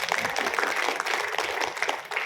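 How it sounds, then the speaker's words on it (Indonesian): A seminar audience applauds in agreement, a brief spell of scattered, moderately loud clapping from many hands in a hall. "Yang setuju tepuk tangan dulu."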